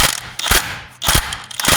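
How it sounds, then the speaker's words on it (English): An 18 mm socket on a ratchet wrench works a rusty front axle bolt on a Hummer H3 or Chevy Colorado, giving close, loud metallic ratcheting in several short bursts with brief pauses between them. "I've got a 18 millimeter socket on here. And again, don't go full force. Just give these little taps."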